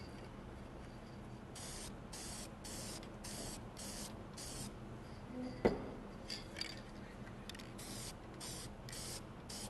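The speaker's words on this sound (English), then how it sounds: "I'm going to put half of the clear lacquer on." Short bursts of clear lacquer hiss from a spray can, repeated in a steady rhythm of quick passes, close and fairly quiet, with a brief click partway through.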